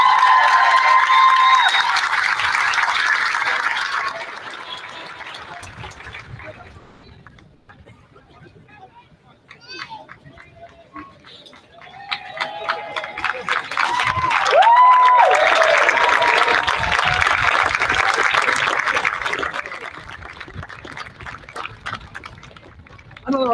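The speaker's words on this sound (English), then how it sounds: "Another round of applause." A graduation audience in a tent breaks into applause and cheers in two bursts with a quieter gap between them. Voices mix into the clapping.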